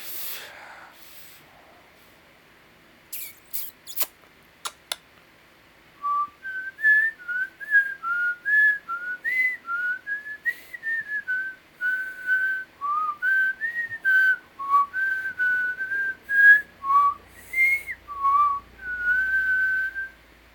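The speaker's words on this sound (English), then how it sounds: "I just had to whistle something there" A person whistles a wandering tune alone, clear and close, a run of short bright notes after a few clicks at the start, with no talk.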